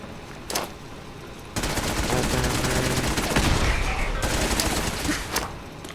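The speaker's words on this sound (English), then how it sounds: "Fragmentation grenade." A fragmentation grenade goes off in Fallout 4 amid dense game combat, with a loud sustained burst of gunfire-like crackling and rumble lasting several seconds after a brief earlier pop.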